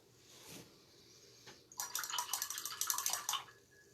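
A paintbrush swishes and splashes in a water container while painting flowers on a hat, a burst of close, lively sloshing lasting about two seconds after a couple of faint taps.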